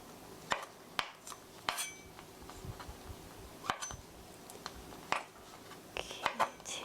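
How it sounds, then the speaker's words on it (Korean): Knife julienning mushrooms on a cutting board, a scattered series of sharp taps and clinks of blade on board, fairly faint, with quiet talking in the background. "이렇게 해서 한 번씩 더 채 썰어 주시고요."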